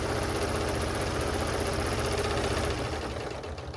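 Sewing machine top stitching fabric for a notebook cover with a pen holder, a continuous fast rhythmic mechanical hum heard up close, steady throughout and easing slightly at the end, no talk.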